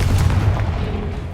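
Confringo blast spell cast in the video game Hogwarts Legacy, a loud low booming burst that rolls through the whole moment with a heavy, continuous rumble.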